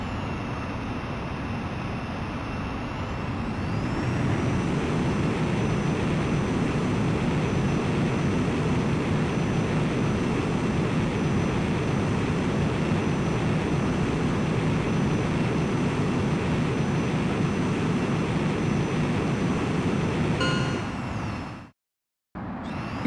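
Jet aircraft taking off in the video game Ace Combat X, a steady roaring engine with a high whine that rises early and holds for about twenty seconds before cutting abruptly to silence.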